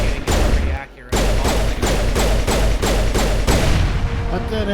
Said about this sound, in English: It's definitely a gun where you could be running in a direction and just firing generally out.